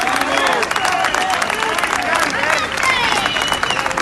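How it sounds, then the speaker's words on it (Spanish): Large crowd applauding steadily at a public event, a dense wash of clapping with some cheering and voices mixed in throughout. "Un fuerte aplauso."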